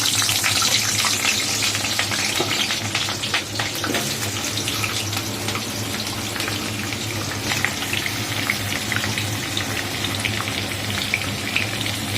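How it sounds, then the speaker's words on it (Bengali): Potato pieces fry in hot oil in a wok, a steady, busy sizzle with crackling pops spread evenly across the whole stretch, close and fairly loud with no talking. "এরকম তেলের মধ্যে আলুগুলো ছেড়ে দিয়েছি"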